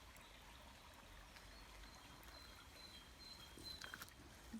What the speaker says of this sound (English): it's got a lovely gentle gurgle as it rushes down towards the waterfall